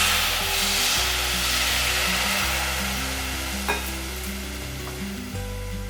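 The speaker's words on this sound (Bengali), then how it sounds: "এবার একটু নেড়ে দিচ্ছি।" A spoon stirs 200 grams of dalia (broken wheat) with a little water in a pan, giving a steady close sizzling hiss under slow, drawn-out scraping strokes.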